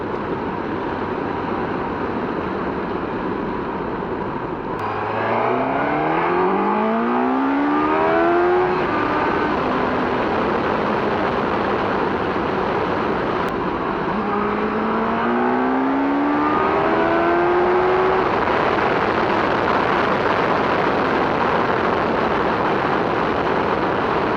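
A Suzuki GSX-S1000GT motorcycle on the move: a loud, continuous engine drone under heavy wind rush, with the pitch climbing and dropping through gear changes, recorded from the rider's position.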